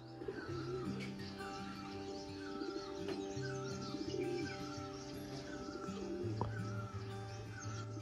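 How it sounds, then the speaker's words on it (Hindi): Many birds call at sunrise in a hill station in Manila, Uttarakhand, a dense mix of cooing doves and chirping songbirds overlapping continuously at moderate distance under a steady hum. "इतनी सारी आपको चिड़ियों की आवाज़ सुनाई देगी, I think you can still here some."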